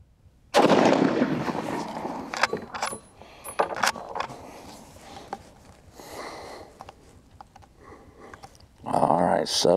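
Two loud, close gunshots from a 30-40 Krag-Jørgensen rifle ring out, one at the start and one near the end, with someone talking quietly in the gap between them.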